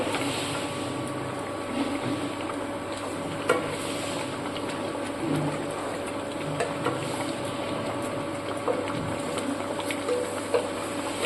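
Fried fish heads being stirred into thick mung dal in a pan, a steady soft scraping and bubbling hiss with faint clicks of the spoon throughout.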